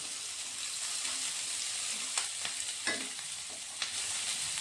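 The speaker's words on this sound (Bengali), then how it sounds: "তারপরে দিয়ে দিচ্ছি রসুন কুচনো, তারপরে দিয়ে দিচ্ছি কাঁচা লঙ্কা। এগুলোকে একটু ফ্রাই করে নেব।" Chopped garlic and green chillies frying in a pan for pasta, heard as a steady, dense sizzle with a few light scrapes and taps from stirring.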